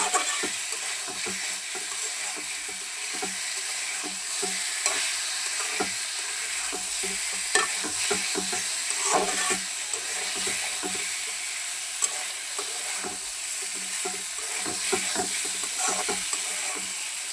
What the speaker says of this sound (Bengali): মশলা কষায় আমি এই যে বাজা আলুগুলি দিয়ে আবার কষায় নিতেছি